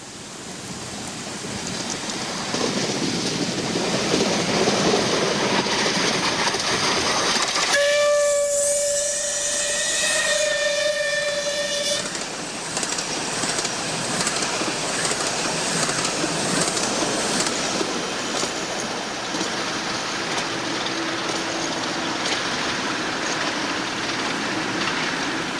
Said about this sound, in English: the High Season Saturday's non-stop Kent Coast Express